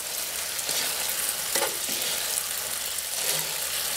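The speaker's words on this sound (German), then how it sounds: "Das Ganze gut durchrühren und vermengen." Pre-cooked noodles being stirred and tossed with a splash of pasta water in a hot pan, a dense, even sizzle with soft scraping as they are mixed, close and with no talk.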